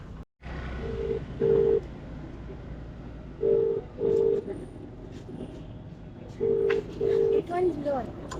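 Phone ringback tone on an unanswered call, heard as short paired beeps repeating three times at a steady pace over faint traffic noise on a city street, quiet and slightly distant.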